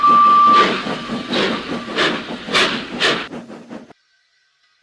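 Rhythmic chuffing bursts of a steam locomotive with a thin whistle tone at the start, loud and near, then cutting to silence.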